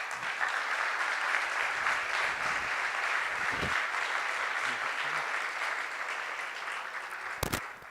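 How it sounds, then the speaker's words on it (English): Audience at a startup anniversary party in Barcelona giving sustained applause, dense clapping that fades slightly toward the end, with a brief voice and a sharp knock near the close. "please, a big applause to all of them"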